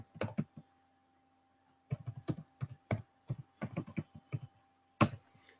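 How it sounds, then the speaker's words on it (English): A short command is typed on a computer keyboard: a quick burst of keystrokes, a pause, then a longer run of crisp, close, quiet clicks ending in a louder tap, with no talking. "you should go to this location and type pip install"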